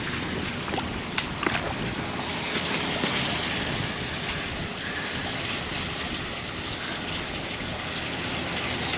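Water draining away at a building site: a steady, loud rushing wash that holds even throughout, with no talk over it.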